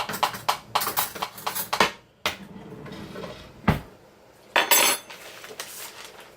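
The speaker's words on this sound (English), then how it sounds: "Get us some eating utensils. You want a fork or a spoon?" Forks and spoons clatter and clink in quick bursts at a kitchen table during a home cooking meal of taco chili mac, with metal utensils jostling loudly and close, separated by brief pauses.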